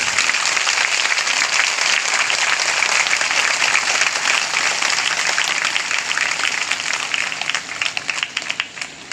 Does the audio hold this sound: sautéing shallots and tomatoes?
no